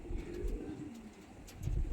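Face of Beauty pigeons coo softly in low, rolling murmurs, close by and fairly quiet, with a few faint chirps and rustles around them.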